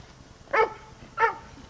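Two sharp dog barks about half a second apart from a pup that has never been in the field, set outdoors in a Maryland field with faint background noise between them.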